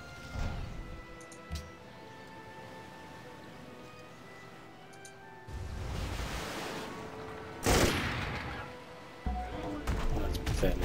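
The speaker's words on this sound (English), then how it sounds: "See how the bombers, these stealth bombers, they'll take 2 or 3 bombing runs." Stealth bombers making bombing runs on a city in the strategy game Civilization V: bursts of distant explosive rumble and crackling blasts arrive in separated waves over a low game backdrop.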